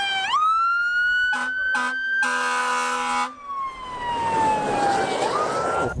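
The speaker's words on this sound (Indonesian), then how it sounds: "Yang ini truk pemadam kebakaran." A toy fire truck siren wails up and down, broken by a few short electronic honks and a buzzy alarm burst, loud and close with no talking.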